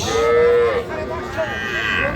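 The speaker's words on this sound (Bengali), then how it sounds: "এটাও একটা সার বাছুর" A young bull calf at a cattle market gives one long, loud moo nearby, followed by a couple of shorter lowing calls amid faint background chatter.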